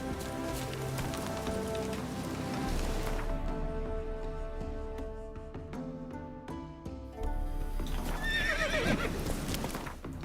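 Roach, Geralt's horse in the video game Witcher 3, gallops with rhythmic clip-clop hoofbeats and gives a loud, close whinny near the end, over a light patter of rain.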